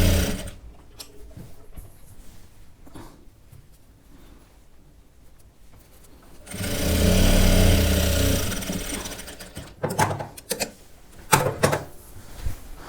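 Sewing machine stitching lace onto a sharara, a loud steady burst of whirring mid-clip between quieter stretches of clicks and handling noise.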